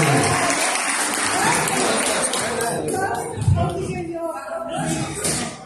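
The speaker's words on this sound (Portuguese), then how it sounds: "Glória a Deus. Um aplauso." A church congregation applauds, with dense clapping and some shuffling. The clapping thins out and is mixed with voices toward the end.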